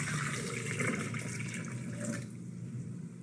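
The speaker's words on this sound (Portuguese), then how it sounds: "acrescentar a água" Water pours into a blender jar with a soft, continuous splashing fill that is faint and recorded close, easing off slightly toward the end, with no talking.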